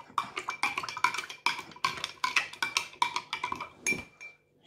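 A metal spoon stirs sugar into milk in a glass, clinking rapidly and repeatedly against the sides in a quick, close, uneven rhythm before stopping.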